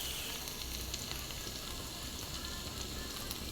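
Garlic sizzles in a hot pan, a soft, steady crackling fry with small pops, quiet and close, no voices.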